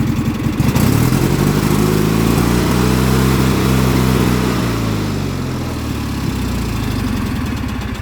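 A riding lawn mower's engine runs steadily at a loud, close idle, its low throbbing drone holding even throughout with a slight easing partway through.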